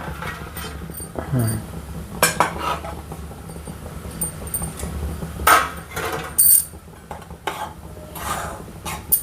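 Wheat flour being roasted in oil in a pan for Vidarbha-style ukadpendi, with a spoon or spatula scraping and knocking against the pan in irregular bursts. Close and moderately loud, with no talking.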